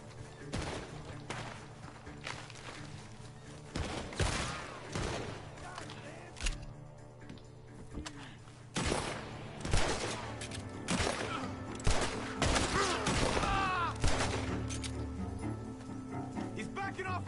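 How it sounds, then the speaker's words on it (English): Gunfire in Red Dead Redemption 2 comes from a barn during a shootout, repeated loud cracking shots in irregular bursts over busy game sound, with shouting voices mixed in. "The gunshots are coming from that barn."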